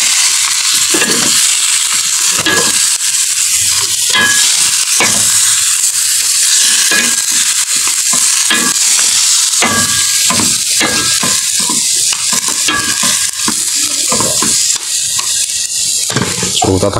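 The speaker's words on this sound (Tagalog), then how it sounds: "Halo-haloin lang natin." Steady stirring and scraping of 17 freshly caught fish frying in a pan for adobo, with a loud continuous sizzle and repeated scrapes and clinks of the utensil against the pan, no voices.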